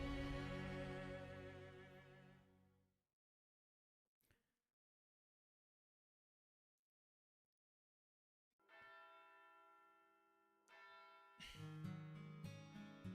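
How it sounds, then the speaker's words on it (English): A bell from the game Fate/Grand Order rings out at a distance, with harmonic tones fading to silence, then returning after a long pause and layered with music. "Intergel's Bell of Pilgrimage, which I've been hearing constantly for 16 years, rings at a distance."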